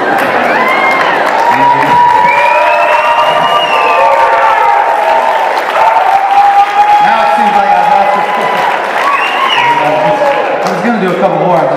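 A loud crowd applauding and cheering at a live poetry performance, with continuous close clapping, whoops and shouts sustained throughout.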